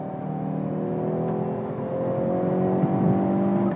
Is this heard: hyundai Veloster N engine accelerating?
yes